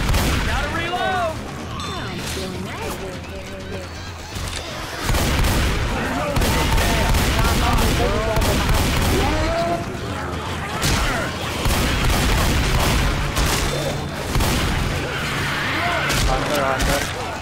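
Gunfire rattles in Left 4 Dead 2, dense bursts and rapid shots nearly nonstop, loud and close, with players shouting and talking over the shooting.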